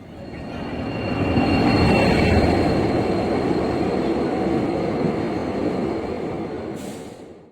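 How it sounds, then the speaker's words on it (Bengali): A train arriving at a station rumbles steadily close by, a heavy low roar of wheels and cars rolling along the rails that fades out near the end. "তো ফাইনালি ট্রেন চলে এলো"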